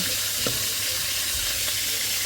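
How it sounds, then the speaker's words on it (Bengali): Fish pieces fry in a pan of hot oil, giving a steady close sizzle with a few soft clinks and stirring taps and no talk. "এটা ভাজে দিব নিয়ে আসতে তো মাছগুলো ভাজে নিচ্ছে"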